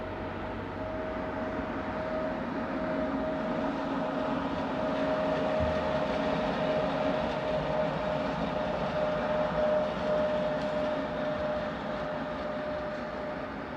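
An ÖBB class 1144 electric locomotive in faded livery pulls into a station with a local train from Linz, giving a steady rolling rumble with a thin sustained electric whine that holds for several seconds, close and fairly loud.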